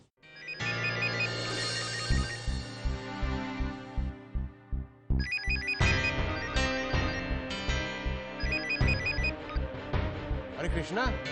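A telephone ringtone sounds in a household scene from an Indian TV drama, playing a repeating melodic pattern mixed with loud dramatic background music throughout.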